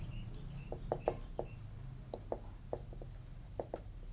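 Pen writing out a maths solution on paper: faint, quick strokes and small taps in an irregular rhythm over a quiet room hiss, with no talking.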